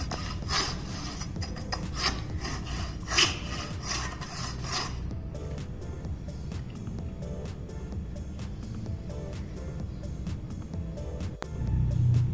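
A kitchen knife blade rasps repeatedly against a sharpening stone in steady strokes, louder at first, then softer scraping continues.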